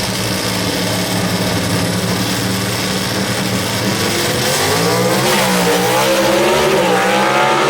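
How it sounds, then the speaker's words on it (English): Gasser-class drag race cars roar at a Knoxville Dragway event, a loud, sustained engine blare that rises in pitch as the cars accelerate away, with no talk over it. "Good drag race right here as Purdue bounces them in first and second,"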